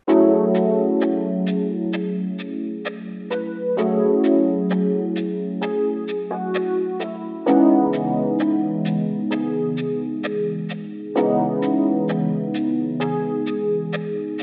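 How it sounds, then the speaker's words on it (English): Electric piano chords from a Lounge Lizard instrument ring out in a steady repeating pattern, treated with chorus and echo effects, shifting to new chords every few seconds. "I used an instance of Lounge Lizard and laid down some nice chords."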